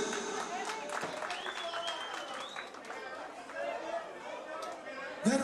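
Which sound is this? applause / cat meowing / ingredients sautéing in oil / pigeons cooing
applause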